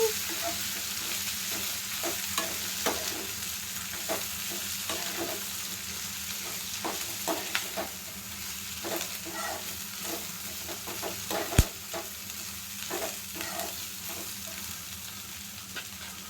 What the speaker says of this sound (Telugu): దాన్ని ఎండు కొబ్బరి పొడి ఇది కూడా వేసేసుకొని అన్నీ కూడా బాగా మెత్తబడేంత వరకు ఇలా వేయించేసుకున్నాము